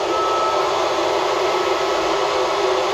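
A 7,000 BTU 12-volt air conditioner runs aboard a Jeanneau Leader 9.0 boat, giving a steady, loud, even blowing hum with no variation and no talk.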